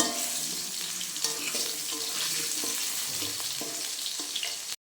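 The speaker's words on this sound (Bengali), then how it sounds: "জিরে ফোড়ন দিয়ে দিলাম। আলুটা ভালো করে ভেজে নেব।" Potatoes fry in oil with cumin seeds tempered in a pan, a steady close crackling sizzle with occasional stirring clicks and pops, cutting off abruptly at the end.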